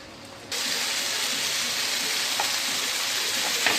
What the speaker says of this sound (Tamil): கொஞ்சம் எண்ணெய் விட்டு நல்லா வதங்கட்டும்